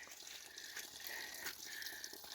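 Water running at Lookout Spring, a trailside source along the Pacific Crest Trail, a steady close broadband rush with faint bubbling and no talk.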